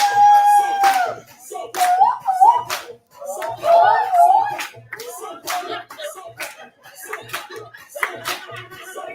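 People clap their hands in sharp, separated claps during a group warm-up at a breastfeeding celebration, with a dog whimpering and a voice talking between the claps.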